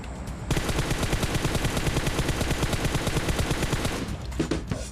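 Automatic rifle gunfire in the PUBG Mobile video game, a sustained rapid burst of shots that starts abruptly and runs loud and dense for several seconds before trailing into a few scattered shots.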